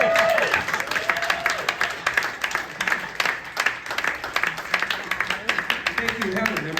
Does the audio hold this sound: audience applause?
yes